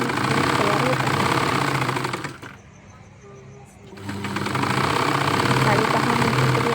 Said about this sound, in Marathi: त्यावरती आता डबल शिलाई मारून घेत आहे, दाब शिलाई.